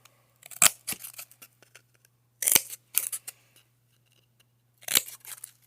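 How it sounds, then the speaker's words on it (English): Scissors snipping slits, three separated bursts of crisp cutting with short clicks between them, close by against a faint steady hum, no voices. "You're going to cut those 4 slits."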